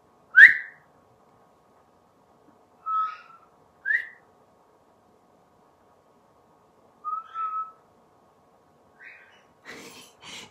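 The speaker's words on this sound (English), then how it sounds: "So we've taught the birds the whistle." Several short whistled phrases from birds, separated by silent gaps, each a bright rising note or two, ending with a brief rustle.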